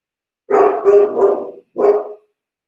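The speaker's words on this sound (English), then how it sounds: "I don't know if you can hear my dog barking right now." A dog barks four times close by, three quick barks in a row, a short pause, then one more.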